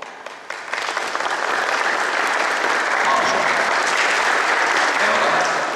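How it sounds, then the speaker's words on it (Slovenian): Audience at a municipal New Year reception in Ljutomer breaking into loud, sustained applause that swells after a brief start and holds steady, dense clapping filling the room. "Evo da, to je že aplavz za ene take občinske proslave"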